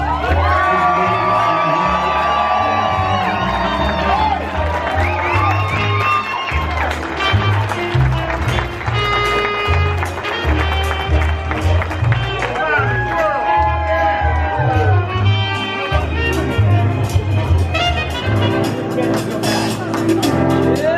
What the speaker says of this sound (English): Ladies and gentlemen, a round of applause for grandmother of the groom, Ann Hansen, escorted by Trevor Hansen.